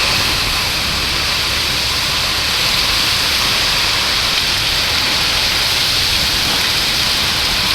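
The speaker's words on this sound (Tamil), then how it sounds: "இடி மின்னலுடன் இடைவிடாத மழை கொட்டி தீர்த்தது" Heavy, unbroken rain pours in a loud, dense, even hiss that fills the whole stretch, with no distinct thunderclap and no voices.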